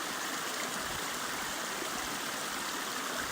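Mountain stream in the Strawberry Mountain Wilderness of Oregon, a steady, close rush of flowing water with a constant broadband hiss and no voices.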